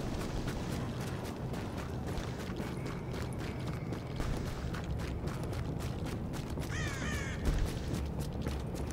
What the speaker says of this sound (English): Those are crows. I thought they were pigeons for a second.